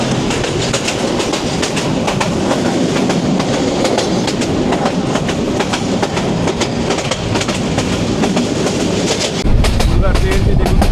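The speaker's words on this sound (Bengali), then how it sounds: "ট্রেনটি দেখুন যে একটি সুন্দর পাক দিচ্ছে, খুব সুন্দর একটি পাক দিচ্ছে" A train on the Dhaka to Kishoreganj route rumbles along the rails with steady rhythmic clickety-clack, loud and close from aboard, with voices talking faintly beneath the running noise.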